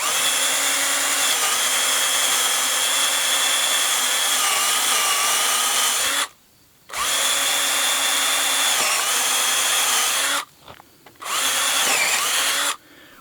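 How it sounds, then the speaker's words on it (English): A power drill with a half-inch bit bores through wood for a road-erosion water diverter trough. Its steady high whine runs loud and continuous, breaking off twice in brief gaps before restarting. "I'm using a 1/2 inch drill bit, and I'm just going to meet up where these two lines are"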